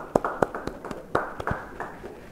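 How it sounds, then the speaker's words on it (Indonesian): Scattered claps from a church Bible study congregation, a handful of sharp separate hand strikes at an uneven pace, fairly faint with quiet room tone between them. "Beri tepuk tangan bagi Tuhan."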